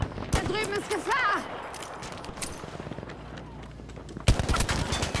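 Gunfire from the Battlefield V video game on the Twisted Steel Conquest map: bursts of shots with sharp cracks at the start and a loud blast near the end, mixed with voices and game sounds.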